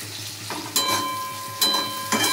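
Onions hit hot oil in a pan for chilli chicken gravy, already seasoned with ajinomoto, producing three quick bursts of sizzling that swell and hang on briefly, close by and with no talking.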